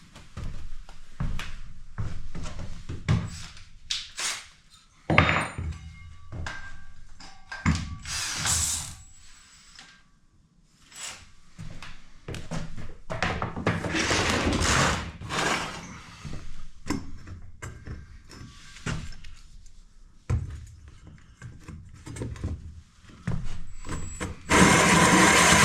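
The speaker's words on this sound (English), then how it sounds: "grab my big hole saw, drill this out" A power drill runs a large hole saw through a school bus body in repeated loud, grinding bursts that chatter and catch, with short pauses between pushes.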